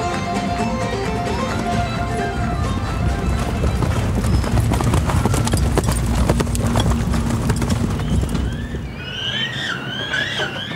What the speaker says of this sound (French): L'écurie du Puy du Fou, dont Mathieu est responsable, compte 170 chevaux